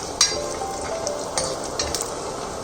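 Whole spices, including cardamom, star anise, cumin and marathi moggu, crackle in hot oil with two bay leaves, making a steady close sizzle marked by a few quick pops and scrapes.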